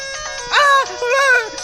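A mobile phone rings with a bright, melodic electronic ringtone: two short phrases of stacked tones, fairly loud and heard alone.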